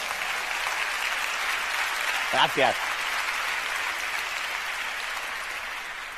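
A conference audience at a science talk in Bilbao applauds, the clapping a steady, fairly soft hiss throughout, with a brief word of thanks spoken partway through.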